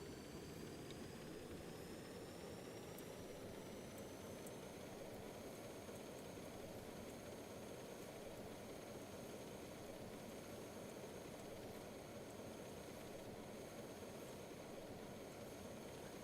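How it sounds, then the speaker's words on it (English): A helicopter's engine in the video game Stormworks hums as a steady, dense drone with a faint high whine layered on top, holding constant and fairly quiet with no talk. "Helicopter."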